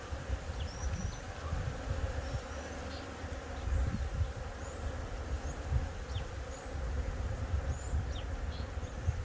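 Honeybees drone steadily throughout a hive cutout, a dense, continuous buzz with occasional louder passes of individual bees close by, and no speech.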